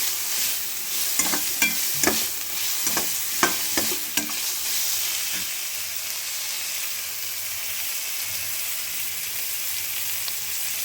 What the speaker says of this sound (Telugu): సో క్యాప్సికమ్ కొంచెం మెత్త పడుతూ ఉంది అన్నప్పుడు మష్రూమ్ వేయాలి.